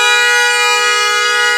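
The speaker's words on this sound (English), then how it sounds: "we have a crazy dog honking the horn." A car horn blares in one continuous loud, steady tone, sounded by a dog pressing it, close and alone with no break.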